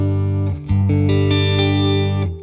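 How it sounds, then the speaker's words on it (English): Electric guitar through an Xotic Soul Driven pedal on gain stage 1, loud and close, with sustained driven chords changing a few times over a couple of seconds. "So let me just turn it on gain stage 1."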